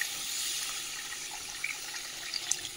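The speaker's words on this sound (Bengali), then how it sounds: "চলো জলটা দিয়ে দিই, জল দিয়ে দিই" Water goes into a pan of spiced potato curry as a soft, continuous splashing pour, fairly quiet, with a few small bright drips and clinks near the end and no voices.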